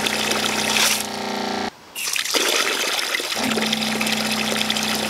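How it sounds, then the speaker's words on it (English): Water runs from a pump-fed tap in a Mercedes Sprinter campervan conversion, a close steady splashing stream with the pump's whine, cut off briefly before flowing again as the pump hum returns. "Nice steady stream of water."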